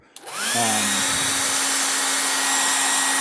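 A heat gun used on vehicle decals for a holiday buggy build switches on with a click and spins up to a loud, steady whooshing roar of hot air that holds constant.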